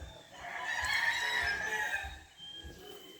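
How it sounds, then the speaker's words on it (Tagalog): Gamefowl roosters on a game farm, one loud nearby crow rising and holding for over a second, with softer clucks and another crow trailing after it. "dito yung mga personal na manok ni Boss B-Boy."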